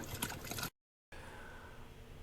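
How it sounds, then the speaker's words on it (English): Water running from the faucet of a Frizzlife M800 tankless reverse-osmosis system, a quiet steady flow with a brief break of silence before the stream resumes. "and turn the water on."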